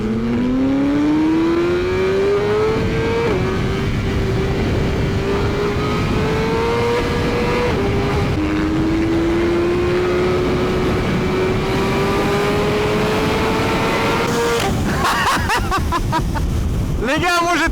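A BMW S1000RR and an M1300GS motorcycle accelerate hard at full throttle on a sunny southern road, the engine note rising steadily through gear changes and staying loud and close, with a burst of wind noise near the end.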